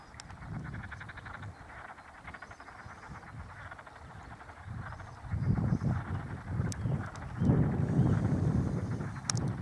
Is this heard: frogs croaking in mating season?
yes